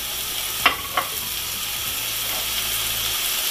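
Tomatoes being stirred into a sizzling frying pan while cooking rellenong bangus, with a steady hiss of frying and two sharp scraping knocks of the utensil early on, close and clear, no talking.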